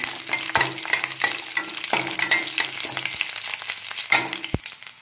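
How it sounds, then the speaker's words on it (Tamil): Curry leaves and dried red chillies crackle and sizzle in hot oil for temple-style puliyodharai while a spoon stirs them, with repeated sharp scrapes and taps against the pan over a busy, close frying hiss. "நெக்ஸ்ட்டு கறிவேப்பிலை, வரமிளகாய் இது எல்லாத்தையும் ஆட் பண்ணி நல்லா மிக்ஸ் பண்ணிக்கலாம்."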